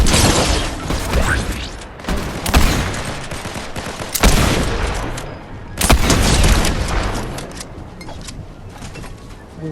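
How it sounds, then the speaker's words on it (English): Dense, loud bursts of gunfire in the video game Fortnite, rattling in repeated volleys with heavy booming impacts and no gaps, filling the whole stretch. "Oh, we getting shot at again."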